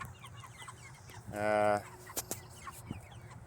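A hungry six-week-old chicken gives a loud, drawn-out squawk amid quieter scattered clucks and bird calls in a barn-like homestead setting.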